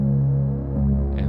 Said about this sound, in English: So these 808s sound like this.